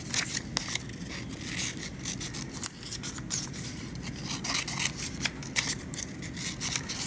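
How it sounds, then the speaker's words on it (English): Scissors snip the corners off a paper snake, giving a steady run of close, crisp cuts and rustling paper with no talking. "you cut the corners off"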